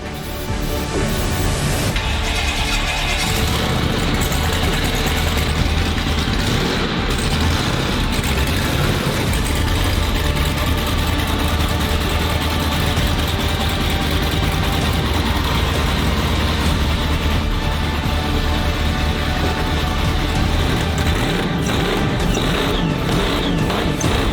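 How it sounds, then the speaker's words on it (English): A loud supercharged 1500-horsepower 1968 Dodge Charger engine roars continuously at high revs, a steady powerful drone with a faint high supercharger whine riding on top. "Do y'all hear like the whistles in a supercharger?"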